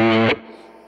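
A Gibson Tony Iommi SG Special electric guitar on the bridge pickup rings out a brief, heavily distorted chord that cuts off sharply, leaving a short fading tail, loud and close with no voices.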